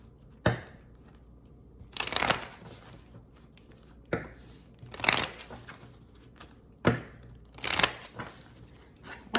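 An oracle card deck is shuffled by hand in several short riffling bursts with pauses between them, crisp and close, with no talking.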